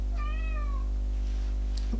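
A house cat gives one clear, drawn-out meow close by, descending in pitch, over a steady low hum, with the rest of the moment quiet.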